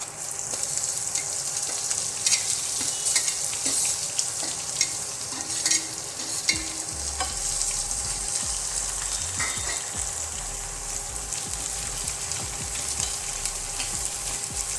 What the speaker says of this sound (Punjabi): ਅਦਰਕ ਲਸਣ ਭੁੰਨ ਹੋ ਗਿਆ ਨਾਲ ਹੀ ਪਾ ਦਾਂਗੇ ਮੈਂ ਪਿਆਜ਼